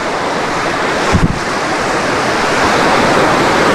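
Steady surf at Dublagadi beach at high tide, a continuous close wash of breaking sea waves with wind buffeting the microphone and one brief louder thump; no voices.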